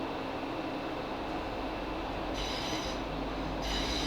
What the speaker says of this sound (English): This train is now approaching Addleston.